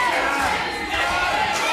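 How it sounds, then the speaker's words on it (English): Crowd at a live wrestling title match in Tadley chanting for a wrestler, a dense roar of many voices with a commentator talking over it throughout. "the crowd calling for Karim to finish Voodoo"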